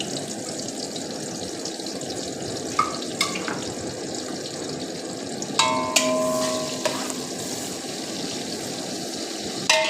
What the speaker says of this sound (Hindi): अब मैंने 4 बारीक कटी कर प्याज शामिल कर रहा हूँ।